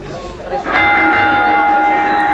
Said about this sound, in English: The bell sounds, we're underway.